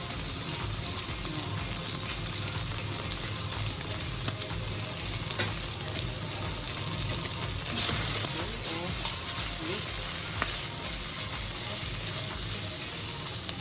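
Sliced carrots sizzling in a pan while sautéing for pancit guisado, a steady close frying hiss with occasional stirring scrapes throughout.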